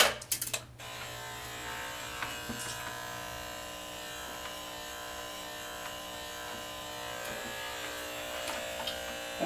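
Electric hair clippers fitted with a 1-inch guard cutting natural hair, a steady close buzz running throughout with a brief louder rattle at the start and small shifts as the blade moves through the hair.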